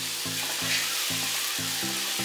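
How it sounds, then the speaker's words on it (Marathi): Vegetables and boiled sweet corn stir-frying in butter give a constant close sizzle, broken by rhythmic low thuds and scrapes of a spatula against the pan about every half second. "या सगळ्या व्हेजीज ज्या आहेत त्या बटरमध्ये आपल्याला स्टर फ्राय करून घ्यायच्यात"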